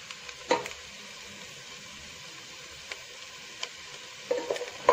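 Vegetable pulao with green chilli and salt is stirred in a pan, a faint soft sizzle broken by a few sharp spoon scrapes and taps near the start and end.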